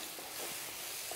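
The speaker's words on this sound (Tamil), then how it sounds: "தக்காளி சேர்த்து இந்த அளவுக்கு நல்லா வதக்கிடுங்க" Soft, steady sizzling and hissing of tomatoes sautéing in a pan for egg curry, with faint stirring scrapes; quiet and continuous.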